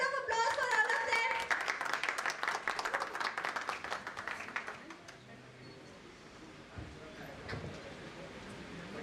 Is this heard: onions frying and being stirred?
no